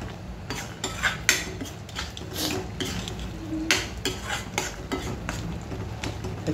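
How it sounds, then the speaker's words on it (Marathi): Gram flour and masala being stirred and roasted in oil for egg curry, with a utensil repeatedly scraping and clinking against the pan in irregular strokes over a low frying sizzle, close and fairly steady. "बेसनला आपल्याला छानपैकी मसाल्यामध्ये भाजून घेतलं पाहिजे तेलामध्ये"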